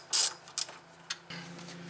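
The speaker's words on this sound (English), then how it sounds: "we're going to take the light out" Headlight being removed from a Toyota Tundra: a couple of sharp mechanical clicks and a ratcheting snap, then a faint clunk, close and brief, no talk.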